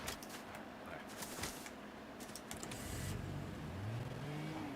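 A car engine in a video game hums and revs at moderate distance, rising toward the end under faint clicks and background game noise.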